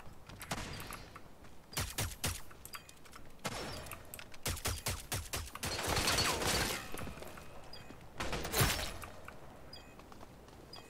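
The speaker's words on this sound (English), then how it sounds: "This gun has so much recoil, I hate it" Rapid gunfire in the online shooter Rogue Company, coming in several separate bursts of clattering shots with short gaps between them, fairly close and sharp, and no talking over it.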